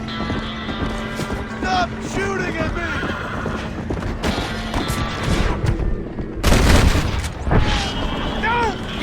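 Gunfire from the Red Dead Redemption video game: a few sharp blasts, the loudest near the middle, mixed with horse whinnies, clip-clopping hooves and voices talking throughout.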